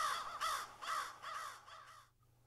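Several loud American crow caws in quick succession, harsh and nearby, then a sudden stop.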